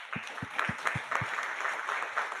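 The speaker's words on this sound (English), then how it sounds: "Give her a bigger round of applause than that." An audience at an adolescent financial literacy forum claps, starting with a few slow, distinct hand claps that merge into a soft, steady patter of applause at moderate distance.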